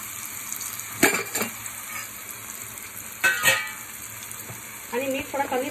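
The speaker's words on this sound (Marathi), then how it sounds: "आता छान त्याच्यामध्ये मला फ्राय करून घ्यायला करायची, एक दोन मिनटं फ्राय करायचं आहे" Faint frying in a pan as turmeric powder is added, with a soft sizzle under intermittent scraping and clinking of a utensil stirring.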